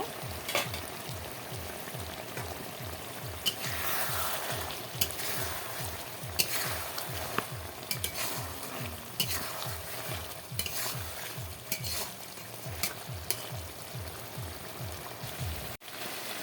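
Snakehead fish bhuna with tomato and potato cooking in a pan, a constant close sizzle and bubbling with a rhythmic series of stirring scrapes throughout.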